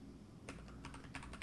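Quick, close keystrokes clatter on a computer keyboard in short irregular bursts during a brief stretch of typing, with no one talking.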